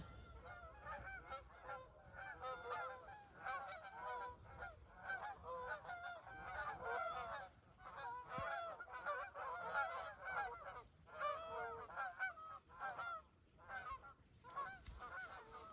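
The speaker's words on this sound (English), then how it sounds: "Sounds like here comes a mess of birds." A large flock of geese honks continuously, many overlapping calls close by, loud and dense throughout.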